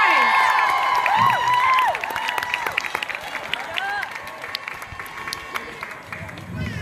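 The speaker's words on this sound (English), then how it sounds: "can we quick give a round of applause though for Greta?" A crowd at an outdoor youth climate strike in St. Paul claps and cheers for Greta, loud whoops and shouts over scattered clapping at first, then the cheering thins into lighter applause and crowd noise.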